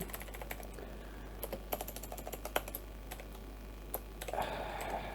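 Keys clatter on a computer keyboard as a short Python hello world program is typed, quiet and close, with irregular bursts of rapid taps and short pauses between them.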